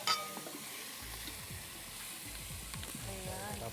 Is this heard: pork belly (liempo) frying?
yes